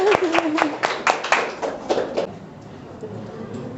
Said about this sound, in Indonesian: Kasih aplaus.